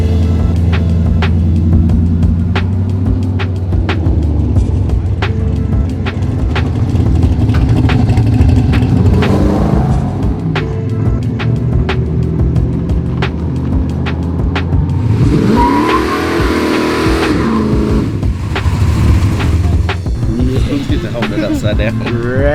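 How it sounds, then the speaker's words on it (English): Swedish street cars at a drag-racing event rev their engines loudly and continuously, with rising and falling throttle blips and a big sustained rev swell near the end, while people talk nearby. "Rev them up."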